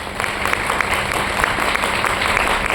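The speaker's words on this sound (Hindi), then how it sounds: "ऐसे सभी अचीवर्स लेकर जोरदार ताली" A training-seminar audience gives loud, steady applause, dense clapping from many hands that goes on throughout, with no one speaking over it.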